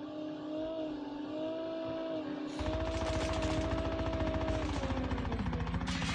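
Rapid automatic gunfire erupts in Call of Duty Mobile, a dense burst of shots following a quieter stretch of engine-like hum, loud and continuous through the second half.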